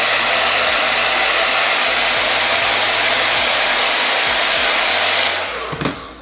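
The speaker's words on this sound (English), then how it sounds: "I am going through with this method with a hair dryer" A hair dryer blows steadily and loudly up close while slowly heating paper flowers for a balloon garland flower wall, its roar wavering slightly before cutting off with a faint click near the end.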